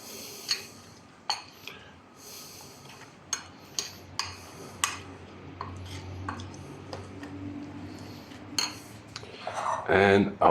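A spoon mixing chutney marinade for pickled geelbek fish in a bowl: sharp, intermittent clinks and taps of metal against the dish at an irregular pace, growing busier and louder toward the end.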